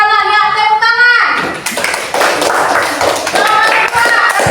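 Classroom children clapping for a classmate who answered correctly, starting after a brief tonal sound and building into a dense, lively burst of claps that fills the rest of the moment.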